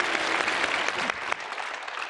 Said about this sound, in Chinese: 别鼓掌了